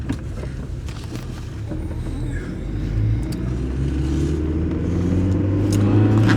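A car drives along on a foggy morning, its engine rumble and road noise steady and close, building slightly in loudness as it goes, with faint creaks from the cabin.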